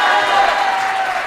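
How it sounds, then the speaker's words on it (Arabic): Studio audience at a televised Casablanca talent battle show clapping, a dense, loud burst of applause heard alone and up close. "صفقوا عليهم بزاف."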